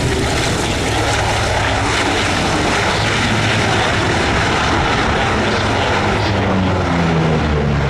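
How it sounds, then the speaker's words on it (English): A P-38 Lightning, a twin-engine propeller fighter, flies at the Oshkosh airshow, giving a steady, loud, broadband engine roar that holds for the whole stretch with no talk over it. "continue to watch that of Raymond as he works the P-38 around as our DC-6 that you have in front of us"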